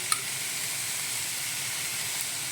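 Beaten egg dropped into a hot pan of ginisang ampalaya, made with three large bitter gourds, gives a steady, soft hiss and sizzle that holds evenly throughout, with one faint tick near the start.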